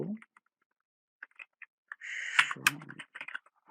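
Close keystrokes on a computer keyboard, a few scattered clicks followed by a quick burst of rapid typing and some final taps, with a brief bit of voice at the very start.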